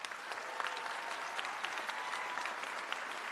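An audience gives a steady round of applause for a speaker's wife at a political address, the clapping even and continuous, moderately distant and fairly quiet throughout.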